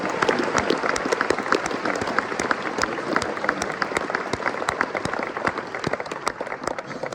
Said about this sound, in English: Guys, give him a huge round of applause.